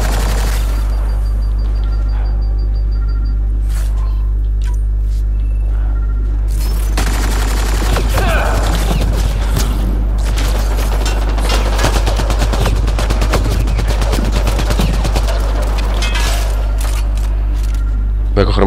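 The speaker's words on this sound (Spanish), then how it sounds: "te estoy devolviendo tu propio fuego" Gunfire exchange in the Mass Effect Andromeda video game: dense rapid automatic bursts and booms building into a continuous loud fusillade over a steady low hum, with a player's voice talking through it.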